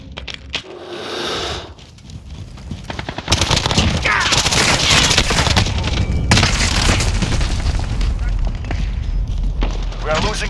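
Frag grenade blasts and rapid gunfire in the Call of Duty Modern Warfare video game on Xbox Series X: loud, dense bursts of automatic fire and heavy booms continue almost without a break, with a voice calling out in the mix.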